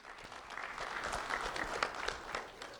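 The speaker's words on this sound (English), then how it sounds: "Round of applause for Cheyenne Gimbroni." An audience at a school recognition ceremony gives a round of applause, a moderate, steady patter of many hands clapping that continues throughout without pause.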